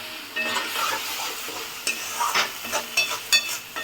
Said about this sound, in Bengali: যতক্ষণ না রান্নার কালারটা আসে ততক্ষণ পর্যন্ত মশলাটাকে কষিয়ে যেতে হবে।